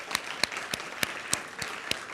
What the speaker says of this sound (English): let's give a final round of applause to our Grad SLAM finalists of 2025